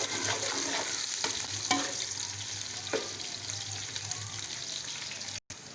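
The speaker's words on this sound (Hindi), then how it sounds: "अब इसमें प्याज डालेंगे और इसका ब्राउन होने देंगे।" Onions sizzle in hot oil with a steady crackling hiss, broken by a few scraping stirs of a spoon in the pan.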